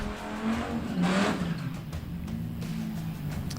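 A Rambler drag car makes a run at Hot Rod Drag Week, its engine swelling in a revving roar, with tire noise, then holding a steady drone in the distance.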